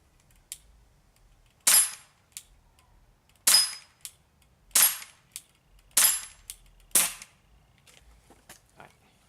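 Umarex CO2 BB pistol firing Hornady Black Diamond BBs: six sharp, close, snappy pops at irregular intervals, each with a short hissing tail, separated by quiet pauses.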